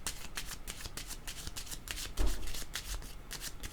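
Tarot cards shuffled by hand at close range, a fast run of crisp riffling flutters with one brief heavier rustle midway, no speech.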